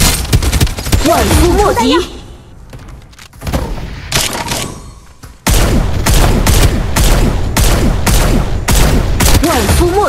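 Rapid bursts of gunfire from the shooter game Farlight 84, with loud, dense volleys that break off into a quieter stretch and then resume as steady automatic fire, while a voice speaks briefly.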